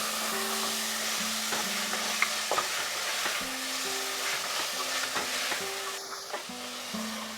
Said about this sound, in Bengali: মিডিয়াম আঁচে নাড়তে নাড়তে আমি মিনিট 5 মাটনটাকে কষিয়ে নিলাম